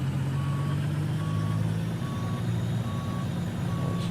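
Truck in American Truck Simulator backing up, a steady low diesel engine rumble under five evenly spaced reversing beeps, with no talking.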